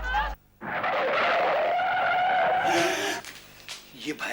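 Car braking as it pulls up, with a sustained loud tyre screech lasting nearly three seconds after a sharp onset, then fading into scattered noises and voices.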